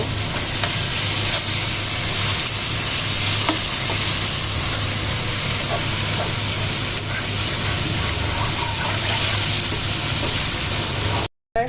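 A generous amount of garlic sizzling loudly in hot oil in a pan, a dense continuous frying hiss with faint stirring clicks, close and steady until a brief cut near the end.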